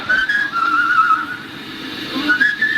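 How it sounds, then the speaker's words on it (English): A man whistles a short tune up close on an old 1989 tape recording, clear sustained notes with a brief pause between phrases. "This is my dad whistling."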